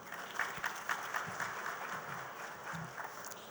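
An audience applauding at an inaugural address for the Indian logistics industry, a steady wash of many hands clapping, moderately loud and sustained with no speech over it.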